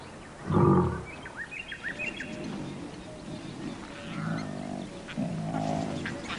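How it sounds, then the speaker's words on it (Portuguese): A deep, loud roar bursts out, followed by a series of rhythmic low grunting roars further off, with birds chirping faintly throughout. "Seus rugidos informam aos outros leões que o território está sendo reclamado."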